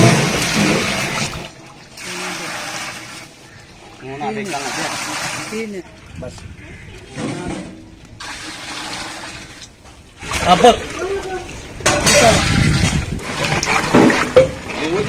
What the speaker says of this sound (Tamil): தண்ணி ஊத்துறேன்.